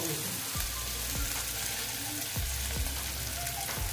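Koi fish frying and being sautéed in oil in a pan, giving a steady dense sizzle with occasional scraping stir strokes, close and continuous with no talk.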